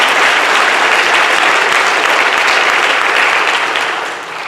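Loud, sustained applause from a commencement ceremony crowd at a college campus, a thick continuous wash of clapping that holds steady and only begins to fade in the last second.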